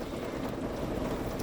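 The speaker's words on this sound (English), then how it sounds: "it started raining a little hard." Hard rain falling as a steady, dense hiss that fills the whole stretch at moderate level, with no talk.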